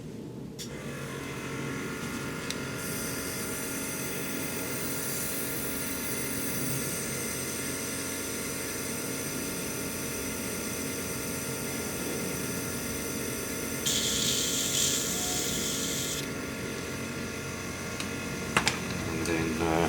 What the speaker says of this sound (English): we'll spray that off into a cleaning jar